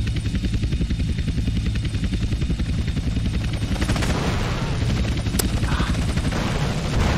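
A CIA helicopter in GTA San Andreas drones with rapid rotor chop while gunfire crackles against it, dense and loud throughout.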